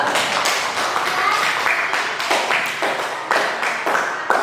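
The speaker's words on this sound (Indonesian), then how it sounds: "Tepuk tangan untuk kelompok 2." A classroom of people applauds with quick, uneven hand claps that continue steadily for several seconds, fairly close by.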